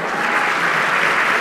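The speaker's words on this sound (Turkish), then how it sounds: "orada kahkahalarla alkışlayan kitleye" A crowd applauds steadily and loudly, a dense wash of clapping heard in a broadcast excerpt, with no talk over it.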